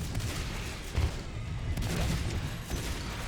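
Shotgun fire in Natural Selection 2 during a competitive league match, dense overlapping blasts in a loud, continuous combat din with no voices.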